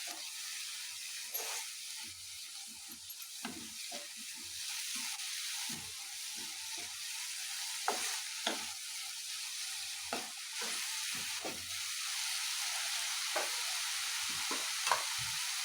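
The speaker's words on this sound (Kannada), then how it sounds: "ಹಾಕಿ ಚೆನ್ನಾಗಿ ನೀಟಾಗಿ ಮತ್ತೆ ಟೊಮೊಟೊ ಎಲ್ಲ ಸಾಫ್ಟ್ ಆಗೋ ಥರ ಚೆನ್ನಾಗಿ ಫ್ರೈ ಮಾಡ್ಕೊಳ್ಳಿ." Tomatoes with turmeric fry in a pan for a South Indian fenugreek-leaf and field-bean palya, giving a steady close sizzle broken by repeated scraping stirs of a spatula.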